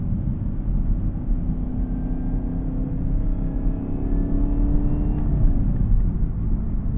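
A 2021 Chevrolet Camaro ZL1 engine drones steadily while cruising, a low continuous rumble with a faint rising tone near the end and no voices.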